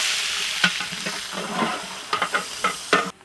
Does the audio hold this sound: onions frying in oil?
yes